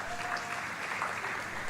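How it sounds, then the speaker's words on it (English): Audience at a conference and expo applauding, a brief, dense burst of clapping from many hands, steady and moderately loud. "A round of applause,"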